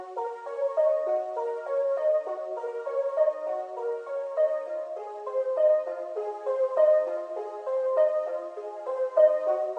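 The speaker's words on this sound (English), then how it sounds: "the first thing I added was just this like arpeggio sound from the same" A synth arpeggio cycles steadily through a repeating pattern of bright, plucky tones in a mid register, playing continuously at an even tempo.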